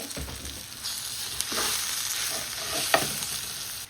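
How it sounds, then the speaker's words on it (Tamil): Masala spices sauté in a pan for chicken curry with a steady, close sizzle and frequent scraping from a utensil stirring through the mix. "இப்போ எல்லா மசாலாக்களையும் நல்ல வடிவாக பச்சை வாசனை போகும் வரைக்கும் நாங்கள் நல்ல வடிவாக வதக்கிட்டு"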